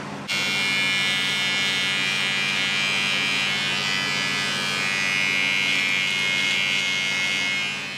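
A Panasonic ER-GD60 electric beard trimmer runs in shave mode, a steady high-pitched motor buzz held close and loud for about eight seconds, starting abruptly and continuing without pause.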